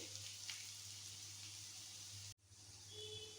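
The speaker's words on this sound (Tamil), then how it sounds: "இந்த நெய்யில் வெங்காயம் வறுபடுற வாசனை அருமையாக இருக்குது" Onions frying in ghee for Hyderabadi chicken haleem give a steady, close sizzle with a soft crackle, broken once by a brief cut before the hiss returns over a low hum.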